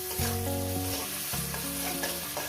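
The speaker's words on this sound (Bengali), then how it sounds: "1 মিনিট আমি ভেজে নেব" Shrimp with water spinach frying in a pan, a loud continuous sizzle with rhythmic spatula scrapes and stirring knocks, close up with no talking.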